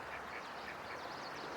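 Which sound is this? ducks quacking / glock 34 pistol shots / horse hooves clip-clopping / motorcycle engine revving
ducks quacking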